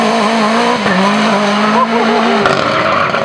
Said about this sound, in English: I didn't know cars were supposed to squeal their tires on gravel.